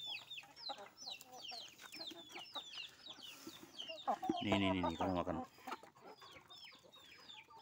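Several chickens cluck and chatter nearby at their morning feeding, with a louder burst of squawking midway, while a person talks to them over the flock.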